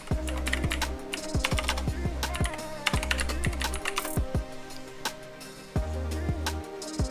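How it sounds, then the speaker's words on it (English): Steady clatter of computer keyboard typing, keys struck in quick bursts with brief pauses, close and fairly loud, no voices. "Let's type in Microsoft Edge."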